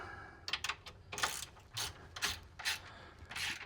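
A ratchet tightening a bolt on the front suspension of an Avenger GT car, quick repeated ratcheting bursts in five or six close, clear strokes with short gaps.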